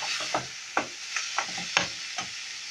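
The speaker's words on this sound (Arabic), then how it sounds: "اللحمه كمان دخلت في السوا، احط بقى عليها الخضار" Vegetables such as grated carrot and green and red peppers are stirred into meat frying in a pan. A steady sizzle runs under a series of sharp spoon scrapes and clinks, close up and with no voices.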